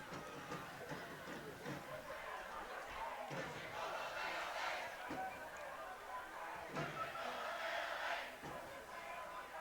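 A stadium crowd at a Detroit City FC versus Napa Valley 1839 FC soccer match murmurs and swells in a broad rolling roar, with scattered cheers and thumps beneath it.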